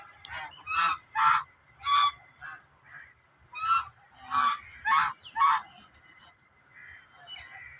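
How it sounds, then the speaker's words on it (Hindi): Ducks and hens honk and squawk in loud, repeated bursts in a park in Rawalpindi, with a steady high whine running underneath. "तो मुर्गियाँ भी हैं इसमें, बतख भी हैं।"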